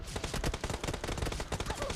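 Rapid bursts of gunfire in PUBG Mobile crackle in quick succession, dense and punchy, with shots overlapping in a sustained volley.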